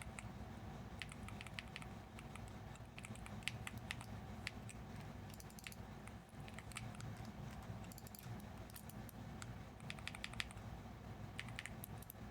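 Typing on a computer keyboard, a soft rapid patter of keystrokes in quick bursts, faint and close, continuing without talk.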